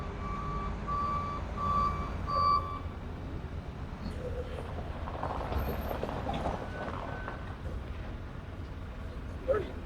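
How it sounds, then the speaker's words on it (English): Loading shovel working at a cement silo while a Scania tanker unloads, with a steady low engine rumble throughout and reversing beeps sounding in a repeated series early on; someone talks faintly underneath. "That's the load and shovel you can hear."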